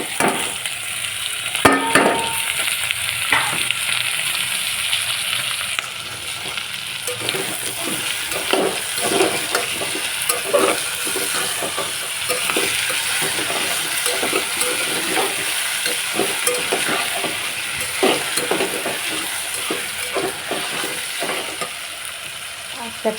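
Tomatoes sizzle and crackle steadily in a hot frying pan while being stirred, with scraping and clicking of the spoon against the pan throughout, close and continuous.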